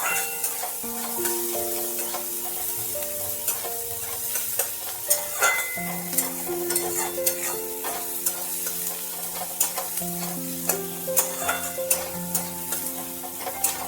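Kasuri methi bora curry fries in a little oil with curry leaves, giving a continuous soft sizzle punctuated by repeated scraping and clicking of a spoon stirring the pan.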